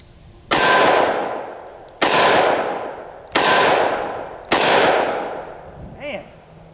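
Four loud .357 Magnum revolver shots ring off a steel target, each a sharp crack followed by a long metallic clang decaying over about a second, spaced evenly, with a brief short voice at the end.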